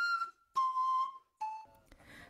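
Flute carved from a vegetable, played by a street performer: clear, pure whistling notes in three short phrases at slightly falling pitches, separated by brief gaps, close and fairly quiet.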